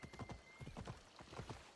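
Horse hooves in the video game Assassin's Creed Odyssey, a rapid, even clip-clop of galloping hoofbeats, quiet and steady throughout with no talk.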